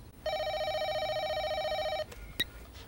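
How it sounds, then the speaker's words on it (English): A telephone in a film rings with one long electronic trill lasting nearly two seconds, then cuts off, followed by a brief click and a faint handset tone against quiet room noise. "It's Rick on the phone."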